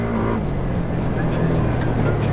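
A 2019 Kawasaki Teryx4 LE side-by-side engine drones loudly and continuously with rumbling road noise, driving fast over rough ground.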